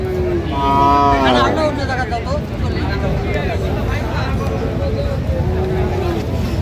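A cow moos loudly and close at a cattle market, its long call rising over a busy crowd of chatter and haggling, with more lowing further off.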